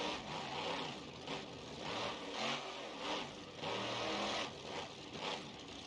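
A monster truck engine in BeamNG.Drive revs in a deep, meaty drone, surging and easing in several swells over steady mid-level engine noise.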